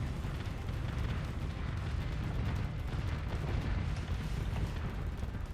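Rockets fire and burst in rapid succession during a modded StarSector space battle, a dense continuous rumble of booms and blasts filling the whole stretch at steady loudness with no voices.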